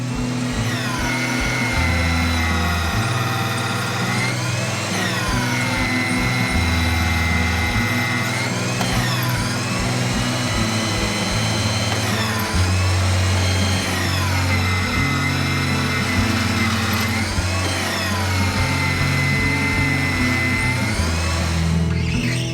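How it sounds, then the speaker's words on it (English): Old super surfacer woodworking planer running steadily and loudly, its motor whine pulsing in repeated passes about every three to four seconds as timber feeds through while a ladder is being finished. "Now finish it by super surfacers"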